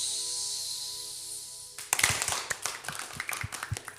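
A group performs a rhythmic balloon clap: after a steady tone, a quick burst of many hands clapping together in a fast patter, moderately loud and close.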